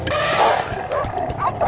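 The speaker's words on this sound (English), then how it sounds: "Like wolves, dogs hunt by instinct, going for the legs or neck to bring down a large animal." A pack of dogs hunting a large animal barks and yelps in rough, overlapping bursts, loud and close, with snarling energy throughout the short stretch.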